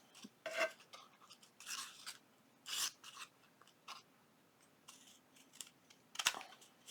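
Scissors snip through paper for a junk journal tag, a series of short crisp cuts in irregular bursts, close and fairly quiet against a faint indoor background.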